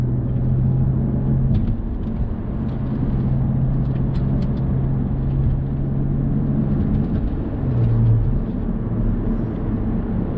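A BMW F10 535i driven hard on a winding canyon road, its engine droning steadily inside the cabin under heavy road rumble, the pitch shifting as it changes gears near the end.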